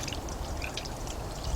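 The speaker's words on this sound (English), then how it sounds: "you just take the hot water and then you're just going to pour it on, and it's just going to wash it all away" Hot water is poured over a corroded car battery, a steady close splashing trickle with fizzy, spattering texture throughout.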